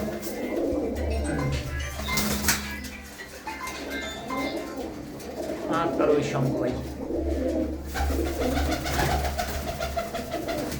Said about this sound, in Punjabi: ਖੁੱਡਿਆਂ ਦੇ ਅੰਦਰ ਇਹ ਕਬੂਤਰ ਹੈ